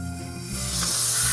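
Spray foam insulation hisses from a can's small nozzle into wall cracks in a pantry under renovation, a steady close, broadband spray that swells louder partway through and runs continuously without talk.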